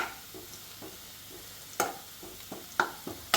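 Cumin seeds frying in a pan with a soft, steady sizzle, broken by a few sharp scrapes and clinks of stirring, the louder knocks coming toward the end.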